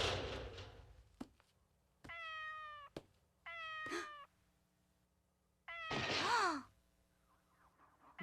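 A cat meows several times, nearby and fairly quiet. The calls are tonal and drawn out, with a short harsh noise at the start and brief knocks between the meows.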